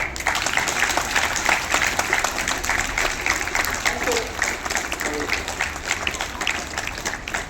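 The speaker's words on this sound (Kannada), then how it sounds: "ಹೇಳಿ ಚಪ್ಪಾಳೆ." An audience at an outdoor yoga session claps steadily and loudly throughout, a continuous wash of many hands with voices mixed in underneath.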